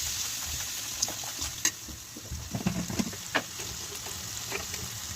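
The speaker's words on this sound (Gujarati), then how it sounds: "તેલ નાખીને રાઈ નાખીને વઘાર કરવાનો છે" Mustard seeds, cumin, asafoetida and a crushed ginger-garlic chilli paste sizzle and crackle in hot oil for a Gujarati tempering, with soft popping bursts and light stirring over a steady low fizz.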